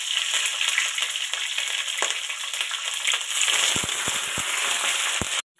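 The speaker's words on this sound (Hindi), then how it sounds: "गरम मसाला डाला है तड़के में, जीरा" Garam masala, cumin and green chilli frying in a hot tadka for veg pulao, a dense crackling sizzle with a few sharp pops near the end, close and continuous.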